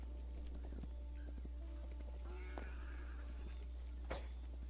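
A horse in the game Hytale, with light clip-clop hoof steps and small tack sounds over a constant low electrical hum, fairly quiet and with no talking.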